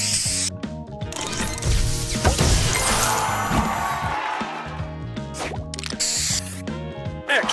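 Spray booster effect from the mobile puzzle game Match Masters, a loud, dense burst of hissing spray layered with crashing, splashing game sounds and bright musical stings, running continuously and close.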